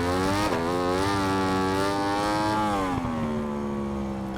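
A Ducati motorcycle engine on a racing lap sings at high revs, its pitch rising and falling through the gears and dipping after a shift near the end, loud and close with no voices.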